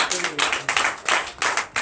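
A congregation at a Sunday church service in Benin claps in steady, overlapping bursts, with voices mixed in under the applause.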